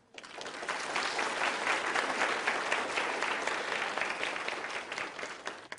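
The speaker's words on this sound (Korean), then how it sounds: "다시 한번 큰 박수 부탁드립니다" A lecture audience applauds, a dense, even patter of many hands clapping that starts suddenly and holds steady for several seconds with no voices over it.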